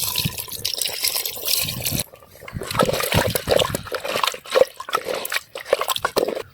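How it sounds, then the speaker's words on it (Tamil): Water poured into a clay pot of simmering country chicken curry, a steady broadband splashing and gushing that runs for about two seconds, pauses briefly, then continues in uneven pours and gurgles, fairly close and alone. "இப்போ தேவையான அளவுக்கு தண்ணியை ஊற்றிடலாம்."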